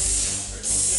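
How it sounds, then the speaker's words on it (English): A 200 PSI commercial vapor steam cleaner blasts dry steam onto a car door, making a loud, steady, close hiss that runs the whole second with a brief dip in the middle. "there's your dry steam with your wipe down"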